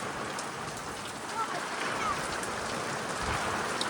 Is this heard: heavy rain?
yes